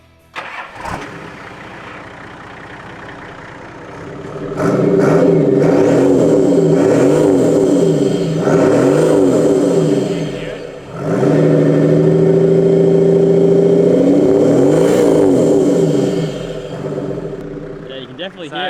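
An engine starts, then revs hard in two long sustained bursts with a deep throaty exhaust roar, loud and close, settling between revs.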